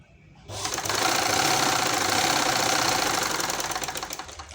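A sewing machine runs loud and fast in one continuous stretch of about four seconds while double-stitching the lining cloth of a frock. A steady mechanical whir carries a rapid needle rhythm.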